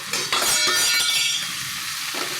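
Prawns, minced mutton and chopped green chillies go into a hot pan, setting off a loud, dense sizzle with clattering bursts as the ingredients land and are stirred.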